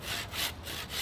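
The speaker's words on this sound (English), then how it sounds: "And we're gonna be sawing this whole log." A hand saw cuts through a wooden log in close, rasping strokes, about four back-and-forth passes in a steady rhythm, with no talk.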